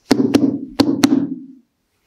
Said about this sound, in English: She knocked,